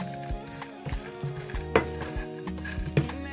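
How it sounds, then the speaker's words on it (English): Homemade spices toast in a hot pan with a steady, close sizzle, broken by scraping stirs and a few sharp clinks of a utensil against the metal. "I just feel like toasting it."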